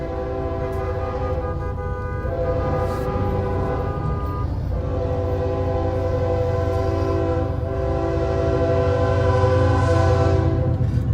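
A train sounds a long, loud, sustained horn as it passes near a bus stopped too close to the tracks, the blast continuing with brief breaks over heavy rumbling rail noise throughout.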